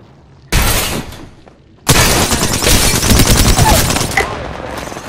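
Apex Legends gunshots: a single sharp burst, then a long, loud, sustained volley of rapid automatic fire close by, with a few softer shots trailing off at the end.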